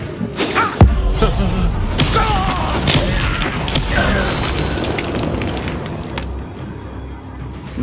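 A Confringo fire spell in Hogwarts Legacy bursts with a loud boom, followed by sharp thuds and crackling impacts amid a dense rumbling battle din.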